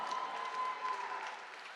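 A gala audience applauds, a faint, steady wash of clapping that holds evenly through the short stretch and tapers slightly at the end.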